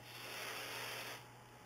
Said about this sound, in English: I have a flexible hairspray here that I'm just going to spray